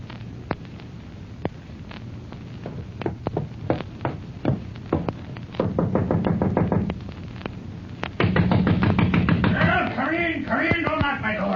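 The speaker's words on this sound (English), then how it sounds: "don't knock my door down" Knocking on a door in an old radio-style drama, a series of sharp, insistent raps that grow heavier and faster, heard under a steady background and with a voice talking near the end.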